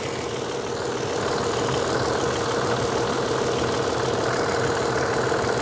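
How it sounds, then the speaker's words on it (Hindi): 1990 Toyota Land Cruiser engine idling, a continuous low, even rumble with a slight knocking texture, close and steady throughout with no talk. "तो अब आपने इसकी इंजन की साउंड सुनी है, इंजन की साउंड इसकी बेहतरीन है"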